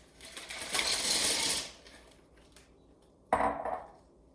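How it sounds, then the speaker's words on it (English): Ice cubes pour into a large plastic zip-top bag in one rattling, clattering rush that lasts about a second and a half. After a quiet gap, a second short clatter follows, heard close with no speech. "In our large Ziploc bag, we're going to put our 4 cups of ice"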